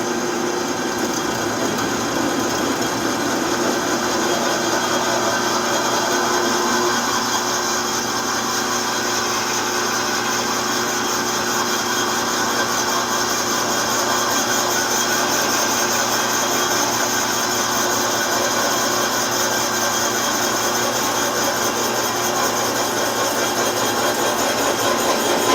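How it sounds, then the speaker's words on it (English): A power drill bores steadily into wood, a continuous, loud motor whir with a steady pitch that holds without pause throughout. "Well, I guess those bits coming out of there mean she's drilling."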